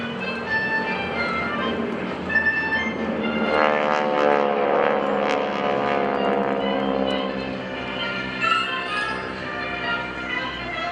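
Blue Angels jets flying in a vertical diamond formation at an airshow, a sustained roaring engine drone that swells and recedes in pitch as the aircraft pass, heard from the ground at a distance.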